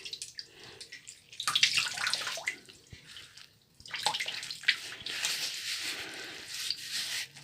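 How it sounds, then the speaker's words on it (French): Water splashes in bursts as a face is wetted before a shave, two stretches of sloshing and dripping separated by a brief quiet gap, close and moderately loud with no talking. "Mouiller le visage."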